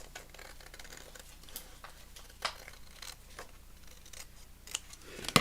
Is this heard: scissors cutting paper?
yes